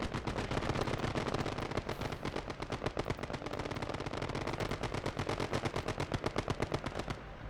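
Sustained machine gun fire in a World War II beach-assault war video game, rapid, evenly spaced bursts rattling almost nonstop for several seconds, loud and close with no voices.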